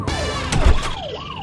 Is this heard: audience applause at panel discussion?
no